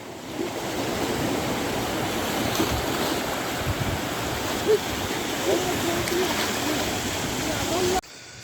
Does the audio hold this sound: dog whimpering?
no